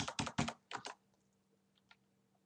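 Keys on a computer keyboard clatter in a quick, close burst of about six strokes, followed by a near-silent pause and a couple of faint, isolated taps.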